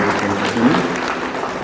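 A crowd claps at the opening of a Kia service centre, a brief dense patter of applause heard close, with voices mixed in.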